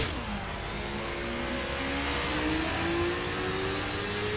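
A McLaren engine in The Crew video game revs and climbs through rising tones, a smooth accelerating whine heard alone at moderate loudness.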